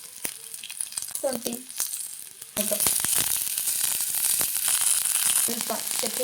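Onion, green chili, garlic and ginger hit hot oil in a pan and break into a loud, steady sizzle, with a few spoon stirs before it and someone speaking briefly over the frying.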